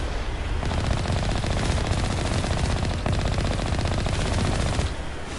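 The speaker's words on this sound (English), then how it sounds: "I normally just like to just randomly shoot at things." Continuous automatic gunfire in the video game Mass Effect, rapid loud shots hammering steadily for several seconds with only slight dips, no speech.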